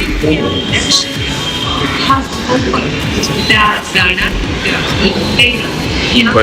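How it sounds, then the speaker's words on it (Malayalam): A Mumbai metro train pulls into a crowded station, its rumble and wheel clatter loud and steady throughout, with platform crowd noise and people talking over it. "ഇതാ അവിടത്തെ ഒരു മെട്രോ വരുന്നുണ്ട്."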